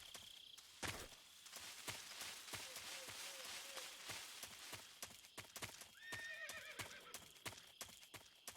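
A horse in the video game Metal Gear Solid 3: Snake Eater whinnies loudly amid clip-clopping hooves, with a soft insect-like chirp in the background and a second neigh near the end.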